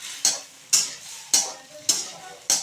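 Potato curry with pea lentil fritters is stirred and sautéed in a pan, five evenly spaced scraping strokes of a spoon against the pan over a faint sizzle, close and clear with no talking.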